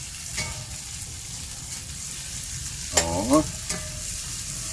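Mushrooms and onion fry in a pan with a steady, close sizzle. Scraping stir strokes and a brief utensil clink break through the sizzle partway, and a short voiced exclamation is heard.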